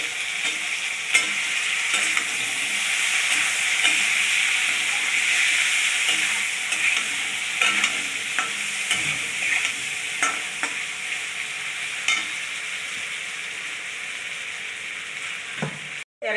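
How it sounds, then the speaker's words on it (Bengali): Tomato fries in a pan with salt and turmeric, making a loud, steady sizzle and hiss broken by scattered scraping and clicking from stirring, with no talking. "এখন আমি টমেটোটা ভেজে নেব।"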